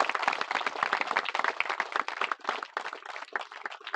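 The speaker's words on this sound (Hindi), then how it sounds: "उनके लिए एक बार जोरदार ताली बजा के स्वागत करें।" A crowd at a village cricket tournament opening claps loudly in welcome, rapid dense claps close by with no voices over them.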